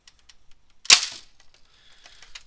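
An Orange Mod Works Longshot blaster prototype firing a cut-down stock dart: one sharp, close pop with a short rattling tail, followed by faint handling clicks.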